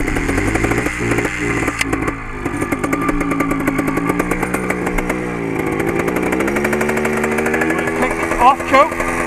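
A Beta trials motorcycle engine starts up and runs loudly nearby, a steady buzzing two-stroke-style drone that rises and falls with throttle blips, with people talking over it.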